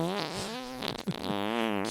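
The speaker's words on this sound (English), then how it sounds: "I'll just insert a fart noise there." A comedic fart noise sound effect dropped into a casual podcast conversation, a short blurting, buzzy burst with wavering pitched tone lasting under two seconds, fairly loud and alone.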